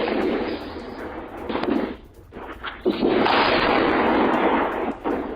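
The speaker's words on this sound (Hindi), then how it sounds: "डिमोना में एक के बाद एक कई हमले हुए हैं, सीसीटीवी में रिकॉर्ड हुए हैं ये हमले" Iranian missile strikes on Dimona, caught on CCTV: loud, rough, sustained explosive roaring with booming bursts, a brief dip near the middle, then renewed heavy rumbling blasts.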